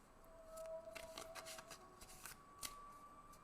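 Tarot cards being shuffled and drawn during a small self-care workshop, a quiet run of papery riffles and flicks with a few sharper snaps, close and fairly faint, no talking.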